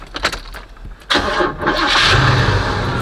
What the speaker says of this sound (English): I'm gonna give y'all a cold start before I get out of here